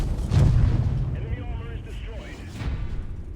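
A tank cannon fires in World of Tanks: one deep, heavy boom near the start that fades into a rumbling tail, followed by lower battle noise and a second swell near the end.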